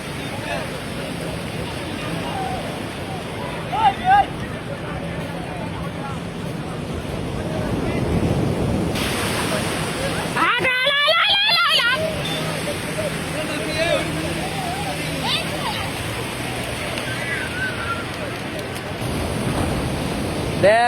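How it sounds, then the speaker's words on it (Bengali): Sea waves breaking on the beach at Cox's Bazar, a continuous washing roar with heavy wind buffeting the microphone, while voices talk excitedly over the surf. "দেখ শোন কি সুন্দর ঢেউ"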